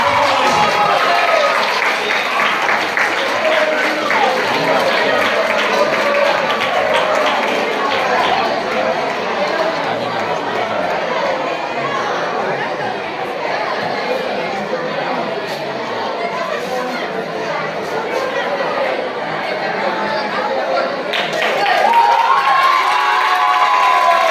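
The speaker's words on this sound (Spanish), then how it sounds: "Un fuerte aplauso para Guillermo Mosena" A school Christmas festival audience in Ourense, students and families, claps and cheers loudly for a secondary-school student, with shouts and chatter over sustained applause lasting throughout and swelling again near the end.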